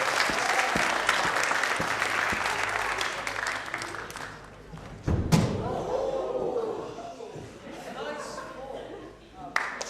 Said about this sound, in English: A round of applause for Esther Legg-Bagg.